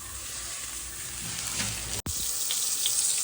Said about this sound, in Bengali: এরপর আমি তেলাপিয়া মাছটাকে ভেজে নিব।